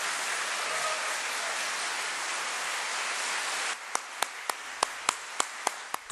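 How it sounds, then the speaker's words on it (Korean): Audience applause at a religious ceremony, a dense sustained wash of many hands clapping that stops abruptly, followed by a handful of sharp, evenly spaced single claps or taps in a quiet room. "참부모님에게 큰 박수를 올리겠습니다"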